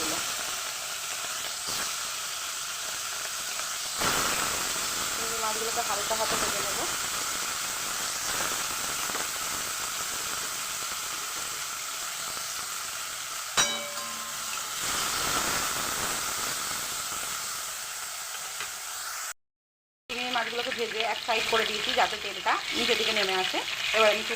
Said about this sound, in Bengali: এই তেলের মধ্যেই ভেজে নেব আমি চিংড়ি মাছ